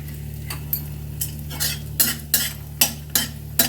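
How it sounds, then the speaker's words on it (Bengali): Bori lentil dumplings frying in hot oil in a pan, with a steady faint sizzle beneath a series of sharp stirring scrapes and clinks of a utensil that come more often toward the end. "বড়িটা আমি ভালো করে ভেজে নিচ্ছি।"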